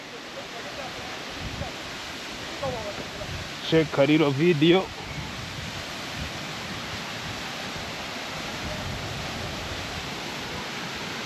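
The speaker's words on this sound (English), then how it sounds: "so it's a little waterfall" A small waterfall near Kilimanjaro, Tanzania rushes as a steady, broad hiss throughout. A short burst of speech briefly rises above it midway.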